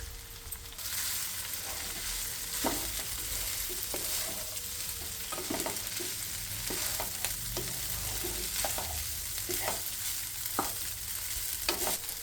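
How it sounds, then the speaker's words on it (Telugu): Rice being stirred into fried brinjal tempering in a pan, with repeated scraping and tapping of a spoon over a soft ongoing sizzle, close and steady without any voices. "వంకాయ తాలింపు అన్నానికి బాగా పట్టేటట్లు కలపాలి"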